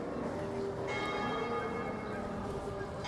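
A clock tower bell rings out over a Toronto street on a cloudy afternoon, its steady tones carrying above busy city background noise, with faint voices in the mix.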